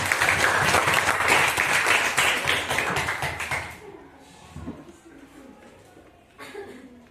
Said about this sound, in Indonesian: Tepuk tangan untuk Lalita